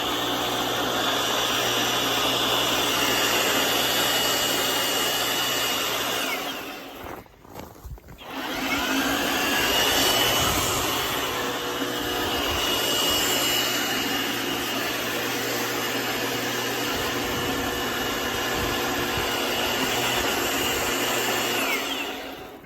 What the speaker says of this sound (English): the bristle brush attachment and the sweeper wheels